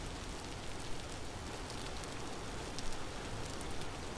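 A heavy rain downpour in the game Vintage Story hisses steadily and evenly, dense and continuous with no voices over it.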